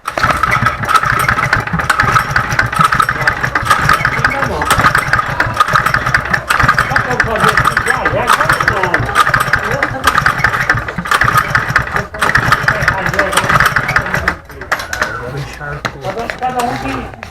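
Attempt to start the new engine of a vehicle called Martinha, a loud close mid-pitched engine churning and revving steadily, then easing off near the end, with people talking over it.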